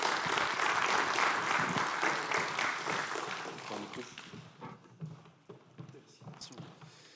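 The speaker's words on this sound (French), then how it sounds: "On peut l'applaudir d'ailleurs" An audience at a hydrogen awards ceremony applauds a former laureate, loud sustained clapping that gradually thins and fades into scattered claps as a voice starts speaking over it.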